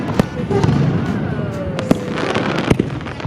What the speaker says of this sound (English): Tony wrapped up Saturday night with fireworks.